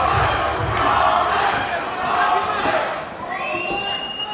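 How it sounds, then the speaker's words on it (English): A dense, steady crowd roar fills a mixed martial arts arena at a Genesis Fighting Championship bout between Mark Christiansen and Roland Saucedo. It swells slightly midway, with a thin whistle-like tone cutting through near the end. "Fans here cheering for Roland Saucedo"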